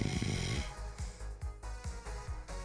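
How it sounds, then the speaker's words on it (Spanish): A person snoring: several rhythmic, close vibrating snores, each a low rattling rasp repeating roughly every half second, heard alone. "esa vibración nos hace el famoso sonido del ronquido"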